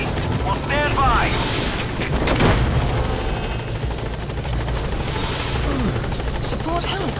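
Support helicopter from Metal Gear Solid V arriving at the landing zone, a steady loud rotor drone running throughout with game radio voices talking over it.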